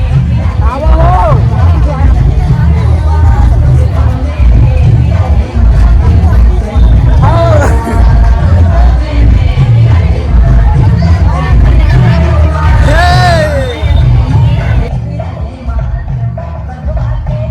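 A dense crowd packs the temple grounds at the Kanki fair, a loud continuous babble of many voices with shouts and calls rising over it, steady throughout.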